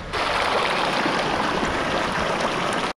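The Bhagirathi river flowing near Gaumukh, its glacier source high on the Gangotri trail, rushes as a loud, dense, unbroken roar of water heard up close and alone.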